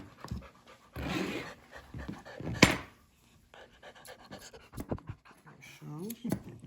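A Doodle dog pants in quick, rhythmic breaths up close during a grooming session, with a louder burst midway and a person speaking over and between the breaths.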